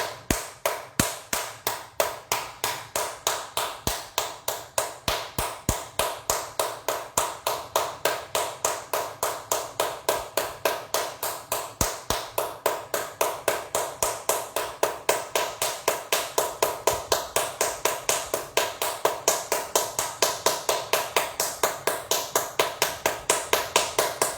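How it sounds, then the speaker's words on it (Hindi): Steady, rapid hand clapping during a yoga exercise, dozens of evenly spaced sharp claps repeating in a constant rhythm, loud and close, with no talking over them. "दोनों हाथों से ताली बजाएंगे, दोनों हाथ एक दूसरे से इस तरह मिलेंगे।"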